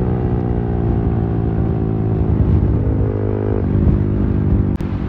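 A Yamaha R15 M motorcycle out on a group Sunday ride, its engine droning steadily and close with a layered harmonic hum, briefly shifting pitch near the end, with no talking.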